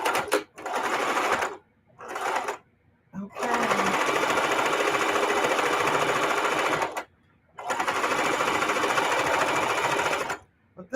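A sewing machine stitches a fabric mug rug in several close, steady runs with short pauses between them.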